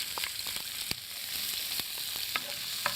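Onions frying with seeds popping in a pan, heard as a soft continuous sizzle broken by sharp, scattered pops and stirring scrapes, close and fairly quiet, with no talking.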